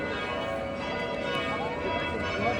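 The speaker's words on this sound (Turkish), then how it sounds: "Çanlar da çalıyor." Church bells ring in the main square of Ghent, Belgium, with a sustained, layered metallic resonance, steady throughout and somewhat distant over outdoor ambience.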